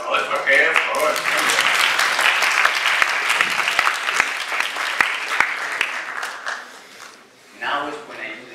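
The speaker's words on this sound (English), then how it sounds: "applause for her, of course" An audience at a neuroscience lecture claps for a volunteer, dense and loud applause lasting several seconds before fading, then a voice speaks.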